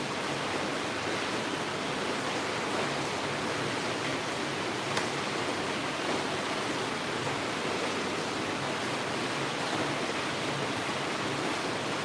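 Steady rain falls outside, a dense, even hiss that holds unchanged for the whole stretch with no breaks and no voices.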